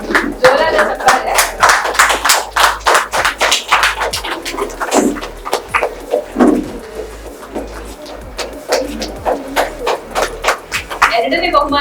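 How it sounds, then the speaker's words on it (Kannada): A crowd at an office Krishna Janmashtami competition prize-giving claps loudly for a winner, with many sharp, uneven hand claps rising and thinning over several seconds and voices mixed in. "ಜೋರಾದ ಚಪ್ಪಾಳೆ."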